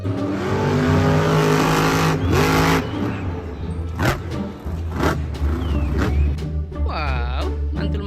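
A monster truck engine revs loudly up close, a heavy, sustained roar with rising pitch sweeps and tire squeal, then drops to a rumbling idle as a person talks briefly.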